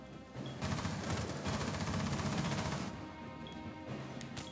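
Gunfire shooting through a wall in a video game, a dense burst of rapid shots that rises, holds for a couple of seconds and then tapers off, fairly close.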